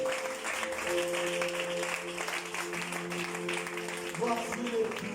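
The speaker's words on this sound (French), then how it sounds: "Est-ce qu'on va acclamer pour Jésus?" A church congregation applauding and cheering for Jesus during a midnight prayer service, sustained crowd clapping mixed with music and voices.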